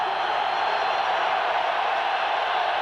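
Steady crowd noise fills a Green Bay football stadium during a Monday night game between the Eagles and Packers, a constant distant roar with no distinct peaks, heard on its own.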